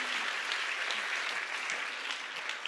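Sustained applause from an awards-ceremony audience for an interpreter, a dense, even wash of clapping that continues without a break.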